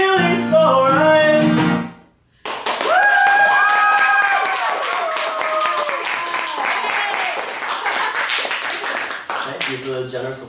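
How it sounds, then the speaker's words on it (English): Audience applause after a song at a small Tiny Desk-style performance: dense, steady clapping from a crowd that sustains loudly for several seconds after the music cuts out and fades as a voice begins. "Thank you for the generous applause, that's so kind."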